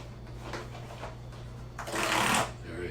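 A sealed box of food is cracked open with faint rustling at first, then a louder, rough crinkling and tearing burst near the end, close up and without talk.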